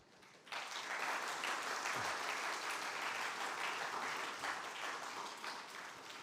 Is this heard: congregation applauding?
yes